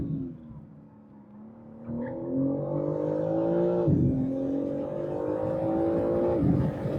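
A BMW M4 CS engine pulling hard on a track hot lap, revs climbing in rising tones, then dropping sharply at an upshift near the middle before climbing again, loud and close from inside the car.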